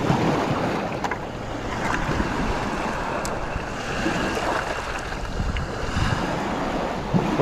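Lake Michigan waves washing onto a beach at Leland, a continuous rushing surf with wind buffeting the microphone, steady and fairly loud.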